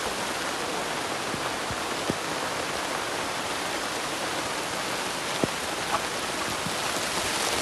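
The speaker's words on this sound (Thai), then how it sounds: "วันนี้ฝนตกนะฮะ" Steady, dense rainfall hisses evenly throughout, with a few louder drops tapping nearby.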